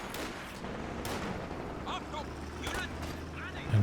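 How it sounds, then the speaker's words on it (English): Machine gun fire and other weapon bursts in the strategy video game Company of Heroes 2, several sharp cracks and rattling volleys over a steady battlefield rumble, with a voice talking over the action. "Oh, machine gun coming in."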